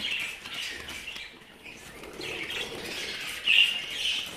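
Small pet birds chirp and twitter continuously nearby after a bath in a busy, overlapping chatter, with one sharper, brighter call near the end.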